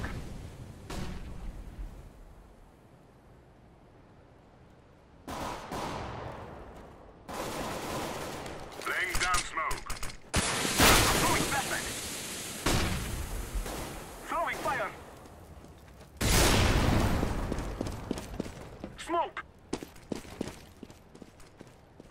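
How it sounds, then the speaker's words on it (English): A flashbang grenade goes off in Counter-Strike: Global Offensive on the Dust2 map, a sharp loud burst among bursts of gunfire and in-game noise, with a quieter stretch at the start and a player's voice calling out. "I'm throwing a flashbang!"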